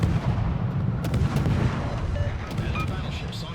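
Main guns of the Smaland, a Tier-10 Pan-European premium destroyer in World of Warships, fire in rapid, repeated booming salvos over a continuous loud battle rumble, with sharp shot transients spaced through the whole stretch.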